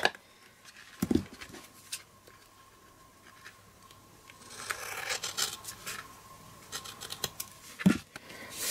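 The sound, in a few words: trimming excess card with scissors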